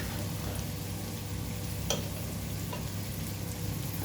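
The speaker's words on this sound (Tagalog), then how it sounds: "gusto ko siyang ilagay na rin dito para igisa ko na rin at magkaroon ng lasa" Boiled chicken feet sautéing in a hot pan for a chicken-feet sopas give a steady, dense sizzle and crackle that holds at an even level throughout, with a faint stir or scrape partway through and no talking.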